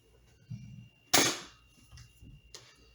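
Toy guns fired indoors at the floor: one sharp, loud crack stands out among a few fainter snaps and clicks, spaced irregularly over a quiet room.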